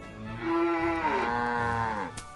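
A single cartoonish cow moo from the farming video game Farmville 2, one clear sustained lowing call of about two seconds, close and alone with no talking.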